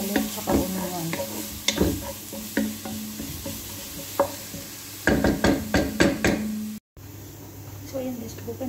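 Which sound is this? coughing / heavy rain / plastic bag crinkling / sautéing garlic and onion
sautéing garlic and onion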